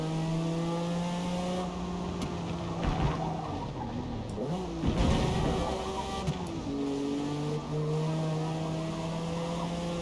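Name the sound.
video game race car engine, new exhaust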